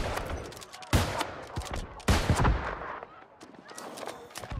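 Artillery fire in the video game New World during a 50v50 battle, with two heavy booming impacts and a scatter of sharper gunshot-like cracks, loud and close, with no talk.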